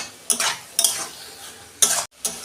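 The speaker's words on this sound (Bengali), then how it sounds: "এরকম করে নেড়ে নেড়ে পুরো শুকনো করে নেবেন একদম" A spatula scrapes and stirs taro greens cooked with a hilsa fish head in a pan as it dries out, with four sharp scraping strokes spaced apart over a low background sizzle.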